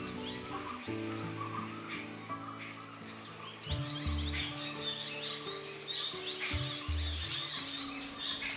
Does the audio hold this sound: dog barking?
no